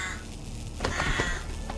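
A crow caws in the video game Mystery Tales 9: The Other Side, a couple of short harsh calls rising over a steady ambient background, moderately loud and without speech.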